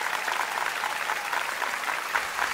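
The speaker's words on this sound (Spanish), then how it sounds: "Un aplauso grande para Santi." Studio audience on a televised singing competition applauds for a contestant, a dense, even wash of clapping that holds steady for a couple of seconds.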